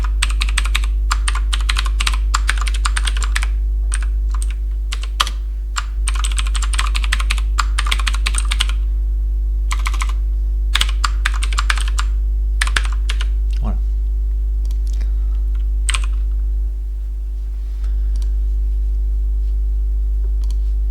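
Continuous computer keyboard typing of TeX macros, with dense bursts of keystrokes and a few short pauses, close and fairly loud over a steady low electrical hum; no talking.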